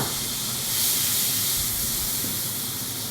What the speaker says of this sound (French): On va y mettre les escargots.